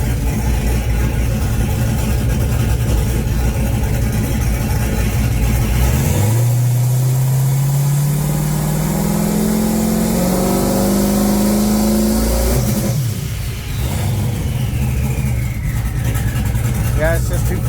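A cammed, rebuilt LT1 V8 in a 1996 Camaro idling rich with a loud, lumpy rumble, then revving up in a long rising pull before dropping back to idle, recorded up close; people talk over the engine.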